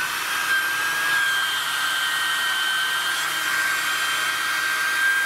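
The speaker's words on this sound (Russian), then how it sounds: "Включаем пылесос" A small USB vacuum cleaner runs continuously to clean a dusty Rapoo computer keyboard, a loud, steady high-pitched whine with a thin tonal hum and no pauses.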